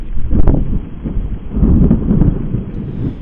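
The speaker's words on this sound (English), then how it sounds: "You're currently hearing the thunder in Stillwater, Oklahoma." Thunder rumbling during a severe evening storm in Stillwater, Oklahoma, a loud, continuous low roll with a sharper crack early on, mixed with wind and rain.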